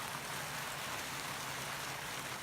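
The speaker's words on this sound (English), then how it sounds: "his crews had to brave the downpour" A heavy downpour pounds down in a constant, dense roar of rain on surfaces, unbroken for the whole stretch, with no talk.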